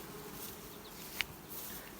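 Honey bees hum around an open beehive, a faint steady buzzing with a brief sharp tap midway and no voices.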